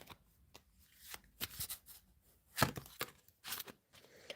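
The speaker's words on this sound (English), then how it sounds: "Let's get 3 cards for the outcome." Tarot cards are shuffled, flicked and drawn for a reading: a quiet run of crisp papery riffles, slaps and snaps in irregular bursts, with one sharper snap near the middle, close up and with no talk.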